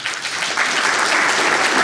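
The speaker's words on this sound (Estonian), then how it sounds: "teeme suure aplausi" A seminar audience gives a steady round of applause after a speaker's presentation, a dense, even wash of clapping that holds at full strength, with no talking.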